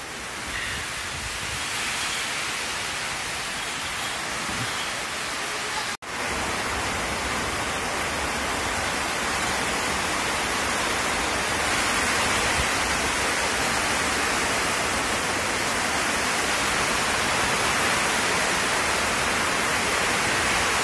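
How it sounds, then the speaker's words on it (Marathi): Heavy monsoon rain pours down steadily on a roadside with the drains filled up, a dense, loud, continuous hiss with no letup and no voices. "मस्त असा पाऊस झालेला आहे आपल्याला"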